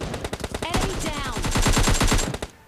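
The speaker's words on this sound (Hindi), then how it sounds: "यहाँ पे एक बंदा मेरे टीममेट पे शॉट ले रहा था" Rapid automatic gunfire in the battle-royale game S12K, a dense burst of closely spaced shots lasting a couple of seconds, loud and close.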